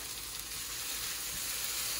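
Spices and cumin with a spice paste fry in a hot pan, giving a steady, close, dense sizzle that holds evenly for about two seconds with no talking.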